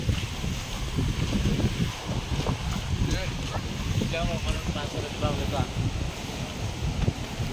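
Strong waves on Taal Lake slosh and churn against the baywalk shore in a steady, close wash, buffeted by heavy wind noise on the microphone, with voices talking intermittently over it.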